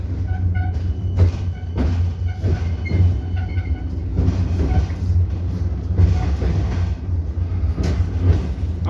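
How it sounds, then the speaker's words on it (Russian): Riding inside a new tram: a loud, steady rumble of wheels on rails with repeated clacks and rattles over track joints, heard from within the car. "Вот такой вот новый красивый трамвай."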